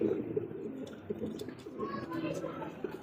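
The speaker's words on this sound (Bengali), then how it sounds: "কবুতর ডাকলেই ভালো লাগে" A male pigeon coos in repeated soft throaty phrases close by, with someone talking over and between the calls.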